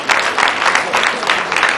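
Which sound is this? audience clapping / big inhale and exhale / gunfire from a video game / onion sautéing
audience clapping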